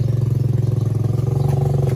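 A Suzuki Raider 150 motorcycle engine runs after a top overhaul. It idles close and loud with a fast, steady, even pulsing putter.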